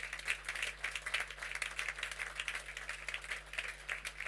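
A standing audience at an Access Holdings PLC event applauds steadily, a dense wash of many hands clapping at moderate distance with no voices on top, holding an even level for a few seconds.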